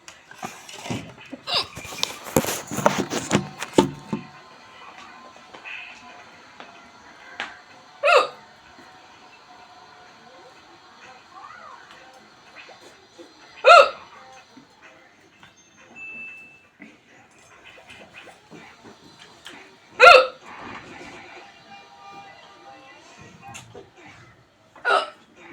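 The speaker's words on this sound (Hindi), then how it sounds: "देख रहा है कितना हिचकी आ रहा है मुझे" Sharp, isolated hiccups from a person come at irregular intervals of several seconds, loud and close in a quiet room after a burst of rustling and handling noise at the start.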